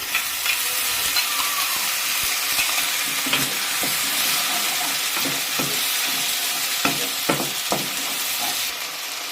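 Onion and spice paste fries in bitter gourd oil with a steady close sizzle, broken by scraping stirs and occasional sharp pops, with no talk.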